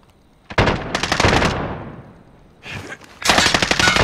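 Small-caliber automatic gunfire in the shooter game Call of Duty: Modern Warfare, two loud, close bursts of rapid shots separated by a short pause, with no talking.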